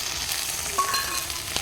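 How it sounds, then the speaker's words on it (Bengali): Ginger and garlic paste with a green chili sizzles in a pan over a clay stove, a steady crackling hiss with faint stirring scrapes across the short stretch. "তো আদা রসুনটা ভালো করে ভেজে নেব"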